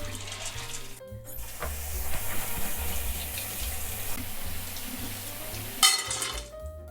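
Tap water streams over chickpeas in a colander in a home kitchen, a steady close rush with clinks of metal, while soft background music plays underneath and the flow cuts off near the end.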